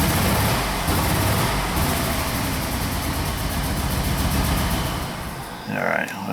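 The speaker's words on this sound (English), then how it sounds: "I'm giving it just a little bit of throttle. Just to keep it running here." Rough, uneven idle from a Jeep Liberty engine running with one cylinder unplugged and a little throttle held, a steady close rumble that stumbles throughout before dipping near the end.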